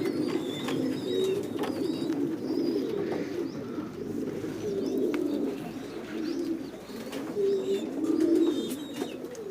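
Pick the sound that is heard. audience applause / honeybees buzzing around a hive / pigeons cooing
pigeons cooing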